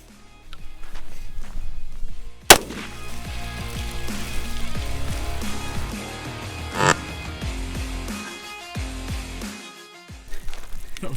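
A 5.56 AR-15 rifle shot hits a gallon water jug outdoors, giving a sharp loud crack with a second strong impact a few seconds later over busy background sound.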